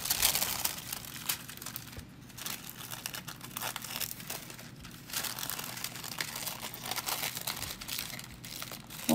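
Tissue paper being handled for 3D embossing, crinkling and rustling softly and almost continuously up close, with quiet irregular bursts.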